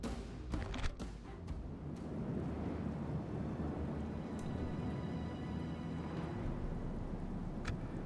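Steady rain with a low thunder rumble in an elf fantasy game, continuous and moderately quiet, with a few brief clicks near the start and no voices.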